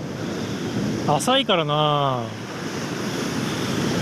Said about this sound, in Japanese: 結構波来ますね